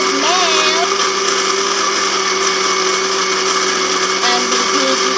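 A blender whirs at a steady, loud hum while mixing champorado with milk, with the motor pitch holding constant throughout and faint voices in the background.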